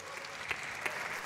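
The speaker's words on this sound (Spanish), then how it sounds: "Fuerte aplauso para Arturo Zaldívar" Audience applause, a brief burst of clapping from a crowd, moderately faint with a couple of sharper claps standing out.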